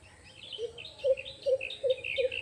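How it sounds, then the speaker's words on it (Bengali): An Asian koel calls from a bird-filled, deserted spot: a run of about five clear, rising notes repeated at an even pace, fairly close, with softer chirps from other birds behind it. "আপনারা কুহুর ডাক।"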